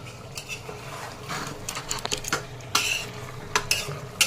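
A metal spatula stirs goat meat with potatoes in a pressure cooker, producing irregular scraping and clinking strikes against the pot, close and moderately loud, with faint sizzling underneath.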